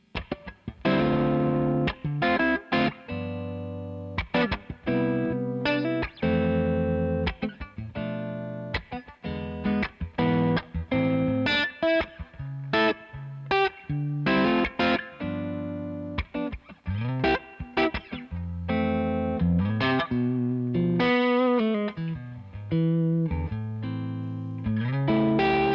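A Novo Serus J electric guitar played through a Sarge amp with only reverb added rings out in a clear, continuous run of strummed chords and picked notes, close and full, with no talk.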